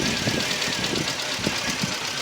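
A fuel-injected Mk1–3 era VW Golf engine idles steadily with a faint knocking rhythm, a close, continuous mechanical hum with no talking.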